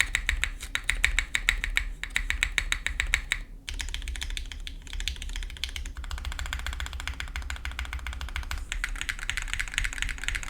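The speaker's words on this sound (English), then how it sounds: "is the spacebar making the thunk sound between the taps? Yeah, that is." Steady typing on a plated mechanical keyboard, a dense run of crisp clicky key taps with deeper spacebar thunks mixed in, close and continuous with a couple of brief pauses.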